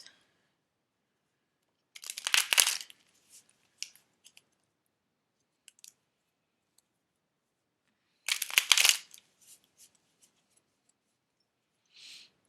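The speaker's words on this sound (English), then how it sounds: "we're gonna shuffle the other deck" Two short bursts of riffling tarot card shuffles, a few seconds apart, with scattered light taps and clicks in the quiet between.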